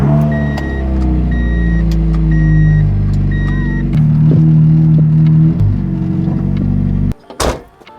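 An Infiniti G37 engine idles steadily just after its first start-up following a manual transmission swap, a loud, even hum with faint whine tones, briefly shifting pitch midway, then a sharp clatter near the end.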